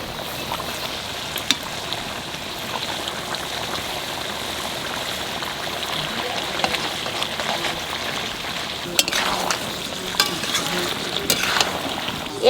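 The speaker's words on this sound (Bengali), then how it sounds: "আদা রসুনের সাথে মাংসটা একটু কষায় নিলাম" Duck meat fries with ginger-garlic paste for a Bengali duck curry, giving a steady, bright sizzle with a few sharp utensil clicks scattered through it.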